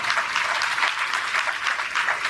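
A congregation at a Punjabi church sermon in Pind Bodla claps together, a steady wash of hand claps that runs throughout at moderate volume with no talk over it.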